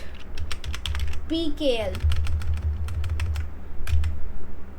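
Rapid keystrokes on a computer keyboard while code is entered, a steady patter of clicks with a voice speaking briefly over them.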